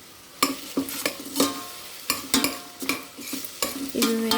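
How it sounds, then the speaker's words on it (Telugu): Onions with ginger garlic paste fry in a pan while a spoon stirs and scrapes in repeated close strokes over a soft sizzle, with no talking. "ఆనియన్స్తో పాటే ఒక స్పూను అల్లం వెల్లుల్లి పేస్ట్ వేయండి చక్కగా వేగుతుంది"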